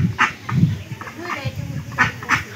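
A village duck that has laid two eggs quacks in several short bursts, close by, while people talk over it.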